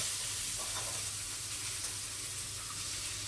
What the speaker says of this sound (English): Add the chili and garlic, stir, and fry for a few seconds.